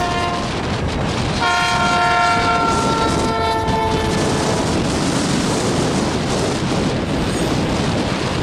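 An eastbound mixed freight train of rock cars and manifest, led by a single AC44C6M locomotive, sounds a loud sustained multi-tone horn for several seconds over a steady roar of rolling wheels and rail noise.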